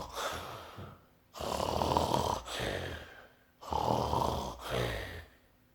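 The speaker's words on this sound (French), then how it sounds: "ces ronflements" Snoring as a sound effect in a French read-aloud children's story: four loud, rasping snores with short quiet breaths between them, heard close and alone with no talk over them.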